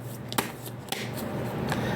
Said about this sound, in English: let me do a little quick shuffle here